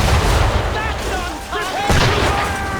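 Loud, dense booming fire in Assassin's Creed III, read as a musket volley, heavy and continuous with a rumbling wash and brief tonal whines over it.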